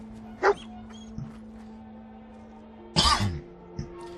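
Dogmeat, the dog companion in Fallout 4, lets out two sharp barks a few seconds apart, the second a longer yipping burst, over a quiet steady game hum.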